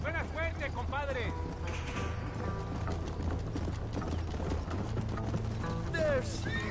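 Horse hooves clip-clop steadily in a video game, a rhythmic trotting that runs the whole time beneath character dialogue and background game sound.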